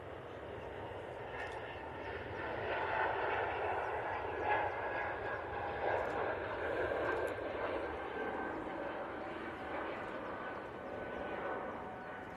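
An Airbus A220 airliner taxis at Manchester Airport, its engines giving a steady broadband whine and rumble that stays moderately loud and slightly distant throughout, with no speech over it.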